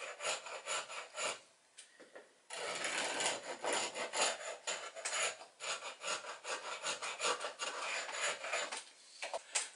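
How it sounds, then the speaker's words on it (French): A very fine wood file works along the rubbing strake of a small toy Barfleur rowing boat's hull, close and fairly quiet rasping strokes in an irregular back-and-forth rhythm with brief pauses between passes. "À l'aide d'une lime ici à bois très très fine, on peut approfondir le liston."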